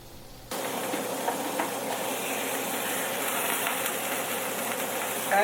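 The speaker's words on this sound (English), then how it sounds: "just put them down on the grill. You can hear them sizzle" Frozen burger patties hit a hot grill and break into a steady, broadband sizzle that starts abruptly and continues evenly, close and fairly loud.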